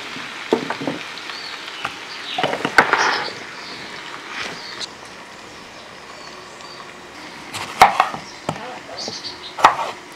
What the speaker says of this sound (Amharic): ቲማቲም መክተፍ አለብን።